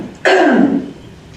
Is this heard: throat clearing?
yes